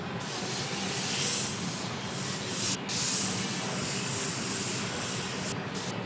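A Badger airbrush spraying fine pinstripes onto script-style lettering, a close, continuous airy hiss that swells and eases, with two brief breaks where the spray stops.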